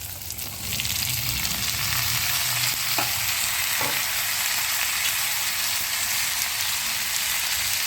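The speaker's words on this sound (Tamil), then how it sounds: "இப்போ நம்ம நீல வாக்கில் நறுக்கி வச்சுருக்க கோவக்காயை போட்டுக்கிறோம்." Steady sizzling of sliced ivy gourd sautéing in a hot pan, with a couple of brief stirring clinks early on, continuous and fairly close.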